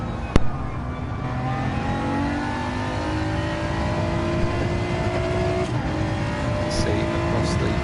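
Gr.4 race car in Gran Turismo 7 at Trial Mountain, its engine droning steadily at high revs with rising and falling pitch as it races, with a loud click near the start and commentary-like talk faintly underneath.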